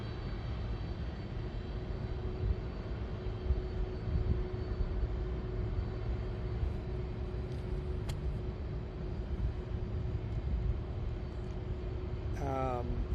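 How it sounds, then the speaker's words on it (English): A UPS Boeing 757 arrives at SDF airport from Albany, New York, a steady distant engine rumble and drone holding through the whole stretch, with faint voices murmuring in the background. "We have a Boeing 757 coming in, UPS 1123 coming in from Albany, New York."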